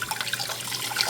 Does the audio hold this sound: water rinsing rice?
yes